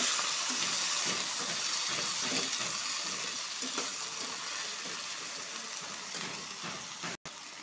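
Cut medium potatoes tumble into hot oil already spiced with dried red chillies and five-spice seeds, setting off a steady close sizzle with stirring scrapes that holds loud for several seconds before easing slightly.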